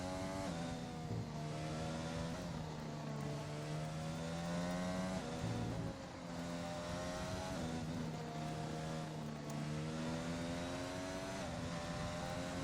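F1 racing video game cars, including a Ferrari, pulling out of the pit lane at the Japan circuit, a steady loud engine whine with rising and falling pitch as gears shift, continuous throughout.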